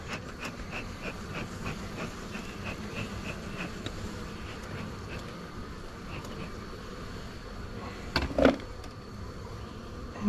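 Honey bees swarm and drone around an opened beehive during a hive inspection, a steady close buzzing with a brief louder burst of sound near the end.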